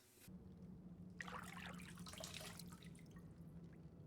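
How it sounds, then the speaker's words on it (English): Faint water drips and trickles in a scene from the animated series Castlevania: Nocturne, with a soft splashy burst over a steady low hum. "That was a little ASMR water right there."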